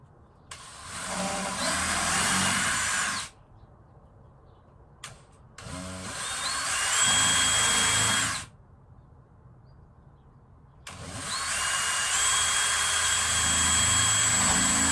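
Power drill boring into timber on a narrowboat hatch, three long whining bursts separated by short pauses, loud and close with no talk.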